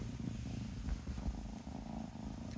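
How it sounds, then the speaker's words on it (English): A cat purring steadily up close, a soft continuous low rumble with slight rhythmic pulsing, quiet and alone. "Oh, you're purring."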